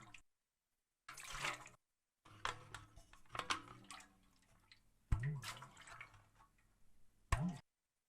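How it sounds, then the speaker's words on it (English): Liquid sloshes and drips inside a light metal container, in short irregular splashes and gurgles separated by brief silences, close and fairly quiet. "I imagined some liquid moving in a metal container"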